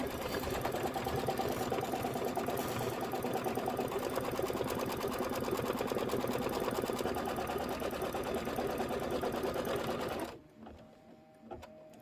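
An embroidery machine stitches a quilting pattern in a fast, steady mechanical rhythm, running loud and close for about ten seconds before stopping abruptly into quiet.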